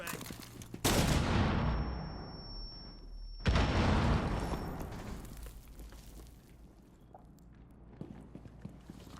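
A flashbang grenade goes off in the Rainbow Six Siege shooter game: a sharp loud blast followed by a second detonation a few seconds later, each trailing off into a long ringing decay, with faint background game noise.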